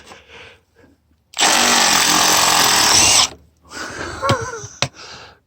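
A 3/8 inch drive power tool, likely an impact driver, rattles loudly in one close burst of about two seconds while removing stuck bolts from the front end of a VW Transporter T4, followed by quieter clanks and handling noise.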